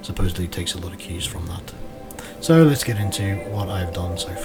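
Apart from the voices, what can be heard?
None of the usual background noises is heard.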